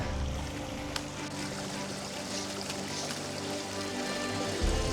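A creek flowing through a canyon on a wilderness trail, a steady broadband rush of running water heard close up, with a brief louder splash near the end.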